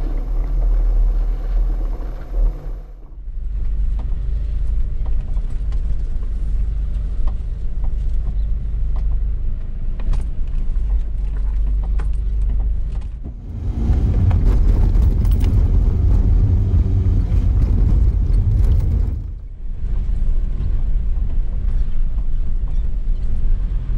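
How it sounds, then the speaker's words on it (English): A Challenger 4WD crawls slowly along a rough bush trail toward Cameron's Point, a continuous low engine rumble with bumps and rattles, growing louder and rougher for a stretch before easing back. "This is not hard four-wheel driving, but it's rough enough that you have to take it slow."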